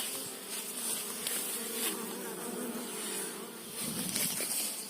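A small honeybee swarm that has just arrived at an apiary hums continuously. The buzzing is dense and steady, with individual bees passing close now and then.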